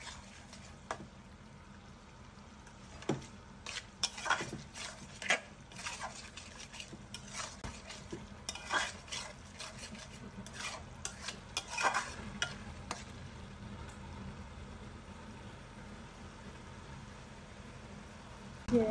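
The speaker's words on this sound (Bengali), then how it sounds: "1/2 কাপ নারকেলের দুধ দিয়ে কষাই নিছি" Shrimp malaikari masala cooks down with coconut milk in a pan: a continuous soft sizzle under frequent quick scraping and stirring strokes that thin out toward the end.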